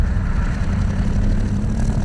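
A loud, steady drone of a Douglas DC-3 propeller airplane engine, deep and continuous with a rumbling low end, heard up close without any talking.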